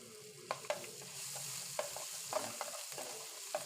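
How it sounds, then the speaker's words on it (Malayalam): Ginger garlic paste frying in oil, a soft continuous sizzle broken by spoon scrapes and clicks against the pan at uneven intervals, close and fairly quiet, with no voices. "ഒരു ടീസ്പൂൺ ഇഞ്ചി വെളുത്തുള്ളി പേസ്റ്റ് ഇതിലേക്ക് ഇട്ട് കൊടുക്കുന്നുണ്ട് എന്നിട്ട് നന്നായിട്ട് ഇതൊന്ന് ഇളക്കി കൊടുക്കാം"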